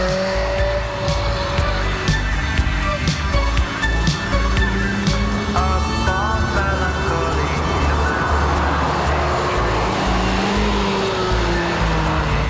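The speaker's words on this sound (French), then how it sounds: "c'est bien sûr le bruit du moteur" A Ferrari 360 Spider engine revving and running hard, a loud continuous roar with rising and falling pitch sweeps, heard up close with faint talk underneath.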